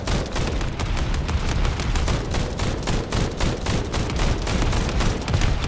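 Boss gunfire in the shooter game The First Descendant, a dense, loud, sustained barrage of rapid shots and booming impacts hammering continuously with no pauses.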